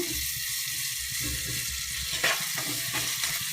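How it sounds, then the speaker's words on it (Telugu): Steady sizzling of ginger-garlic paste frying in hot oil with cumin seeds, with a few stirring scrapes toward the end; close and continuous, no voices. "అల్లం వెల్లుల్లి పేస్టు ఇది కూడా నూనెలో వేసుకుందాము"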